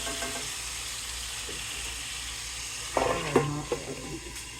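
Hamburger patties fry with a steady, moderate sizzle, then a few clattering knocks and scrapes of a spatula against the pan near the end.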